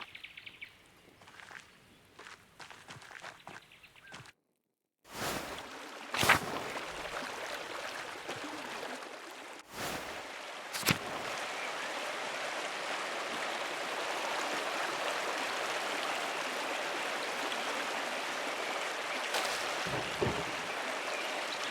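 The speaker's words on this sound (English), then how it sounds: "The waterfall is always so beautiful." A steady rushing waterfall fills a video game forest scene with a broad even roar, joined by brief birdsong and a few footsteps. The scene opens quieter before a short gap, then the water sound holds level to the end.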